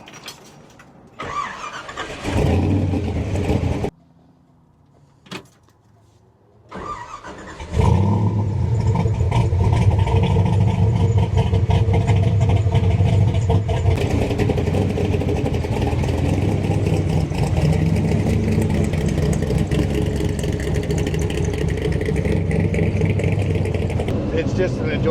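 A 1956 Chevy Gasser engine starting up for a ride: a few brief sounds, then a short silence, then the engine catches and runs loud and steady through the rest, with some revving.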